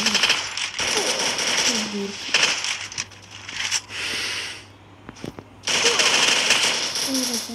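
Gunfire from an MP4 in a battle-royale ranked match, heard as several bursts of rapid automatic shots separated by short pauses, fairly loud over steady in-game background noise.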